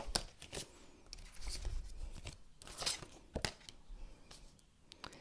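Tarot cards are shuffled by hand, giving a run of crisp, irregular riffling snaps and soft papery slides, close and fairly quiet, with no talk.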